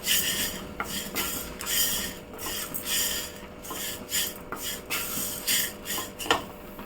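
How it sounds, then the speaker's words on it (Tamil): Greens sautéing in a pan while being stirred, heard as repeated scraping and rubbing strokes of a utensil against the pan in an uneven rhythm, close and moderately loud, with a faint low hum beneath. "இதை நல்லா சுருளவே வதக்கிங்க, வதங்கணும் கீரை நல்லா."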